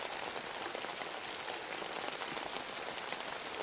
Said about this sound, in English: It sounds like it's raining heavily in the background.